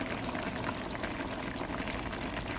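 Apple cider vinegar and honey are poured into a Nesco 4-quart roaster oven holding summer vegetable stew, a steady close hiss and trickle of liquid that runs unbroken throughout.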